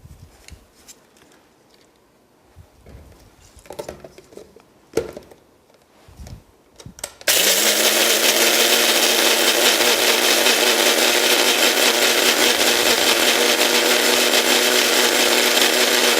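A kitchen blender grinds soaked rice with a little water into a fine paste for baby food, starting abruptly after quiet handling sounds and then roaring loud and steady.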